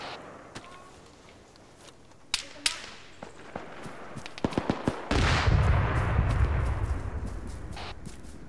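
Gunfire in the video game Arma: scattered sharp cracks of distant shots build into quick bursts, then a heavier, continuous rumble of fire fills the second half.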